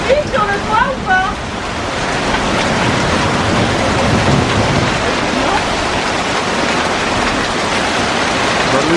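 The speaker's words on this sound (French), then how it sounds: "le 2 juin, on a de la grêle. Et une belle grêle là." A June hailstorm pounds a permaculture vegetable garden and roof, a dense, loud, continuous roar of hailstones with wind noise throughout and a brief voice at the start.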